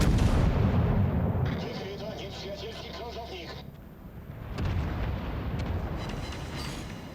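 A warship's main-battery artillery salvo in World of Warships, the Russian battleship Pyotr Velikiy, booms loudly from the start as a heavy blast with rumbling decay, and a second report follows midway, with someone speaking over it.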